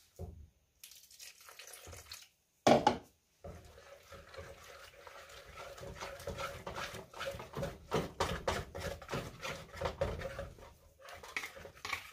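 Tap water running into a kitchen bowl while mixing garbanzo bean flour dough, with short bursts and pauses, clattering of utensils and dishes, and the flow growing steadier and louder in the second half.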